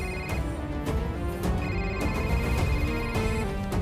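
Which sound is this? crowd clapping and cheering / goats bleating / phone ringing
phone ringing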